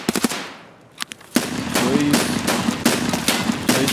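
Rapid bursts of video game gunfire in Escape from Tarkov crackle loudly, a few scattered shots first, then sustained automatic fire with sharp repeated cracks.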